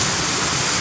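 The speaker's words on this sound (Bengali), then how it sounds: "আজকে হচ্ছে ঢাকার বৃষ্টি" Heavy rain pours down in Dhaka, a dense, steady, loud hiss of falling water with no voices in the brief moment.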